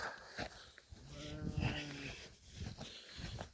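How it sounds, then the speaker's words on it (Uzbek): Sheep bleat in a wheat field, a couple of wavering calls rising near the middle, with rustling and a voice speaking intermittently around them outdoors. "Ana qo'ylar."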